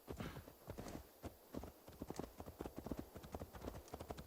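Vidar, a horse in Assassin's Creed Valhalla, clip-clops along in a quick, close, steady trot of hoofbeats with no talking over it.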